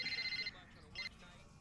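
A faint telephone rings in a short electronic trill, two bursts separated by a pause, soft and distant.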